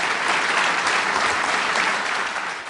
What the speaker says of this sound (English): listen to the cheers from the pro-Israel, pro-Trump crowd.